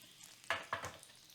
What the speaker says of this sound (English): Hear it? It's already sizzling and popping.